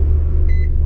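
A car that has sat unused for a long time in freezing Inner Mongolia winter cold rumbles at low idle after starting, with a loud, steady, close engine drone and a faint brief whine near the end.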